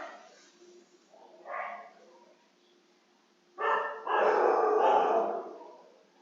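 Dogs bark in a short burst after a quiet stretch, the barking loud and somewhat muffled, with a faint yelp earlier.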